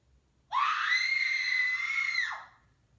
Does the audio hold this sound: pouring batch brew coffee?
no